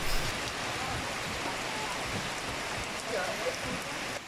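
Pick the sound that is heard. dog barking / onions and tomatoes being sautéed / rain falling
rain falling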